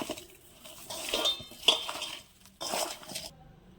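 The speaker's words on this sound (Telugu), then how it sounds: "ముందుగా సాల్ట్ వేసుకోవాలి ఇలా ముక్కలన్నిటికీ పట్టే విధంగా కలుపుకోవాలి" Lemon pieces being tossed with salt in a bowl for lemon pickle, with intermittent clinks and scrapes of a spoon against dishware, moderately close, no talking.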